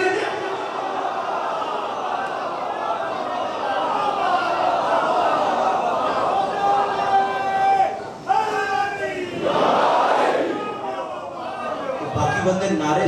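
A mourning congregation at a Muharram majlis in an imambargah in Sahiwal chants slogans: one drawn-out lead voice calls, then a loud, brief crowd response swells and fades, followed by a short call again.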